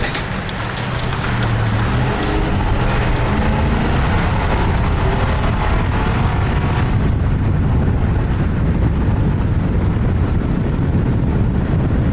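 Inside the cab of a 2020 Ford F350 Super Duty with the 7.3 engine, towing an RV trailer up a hill: a continuous low engine drone and road rumble, loud and steady throughout.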